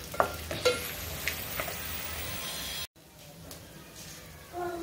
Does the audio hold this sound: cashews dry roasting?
yes